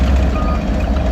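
A truck reversing at a septic tank installation site, its backup alarm beeping steadily over a constant low diesel engine rumble, close by and loud.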